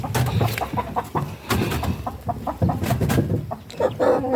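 Three-month-old chicks cluck and peep repeatedly in a farmyard, a close, busy run of short fowl calls over light outdoor background noise.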